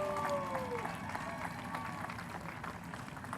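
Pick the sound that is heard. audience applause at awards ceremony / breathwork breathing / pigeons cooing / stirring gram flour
audience applause at awards ceremony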